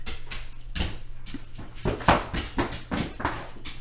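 A happy dog plays indoors, making short whimpers and yelps with thumps and scuffling bursts close to the microphone, no one speaking.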